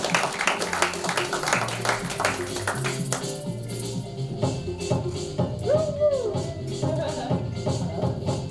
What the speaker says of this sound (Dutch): Mag ik alsjeblieft een heel hard applaus voor Nsimba Valer.